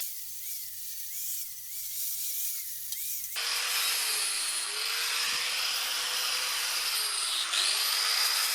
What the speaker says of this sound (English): One final going over with the rotary tool and some wire wheel bits